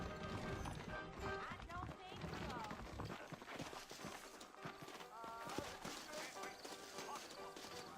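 Saddled horses in the Red Dead Redemption video game clip-clop steadily at a run, hoofbeats mixed into a dense, busy game soundtrack with music and effects throughout.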